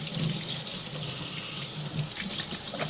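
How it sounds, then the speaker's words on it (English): Steady rush of tap water pouring into a kitchen sink for hand washing, continuous and close, with faint splashing and no talking over it. "wash my hands"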